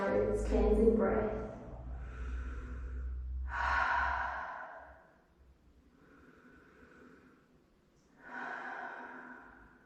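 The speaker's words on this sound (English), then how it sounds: "cleansing breath" Slow, deep cleansing breaths during a yoga session, a long audible inhale followed by soft sighing exhales, repeated with quiet pauses between, close and gentle.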